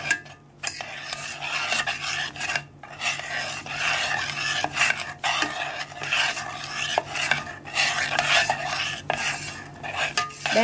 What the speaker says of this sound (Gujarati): 2 થી 3 ઉપરા આવે ત્યાં સુધી તેને ઉકાળવાનું અને સતત તેને હલાવતા રહેવાનું છે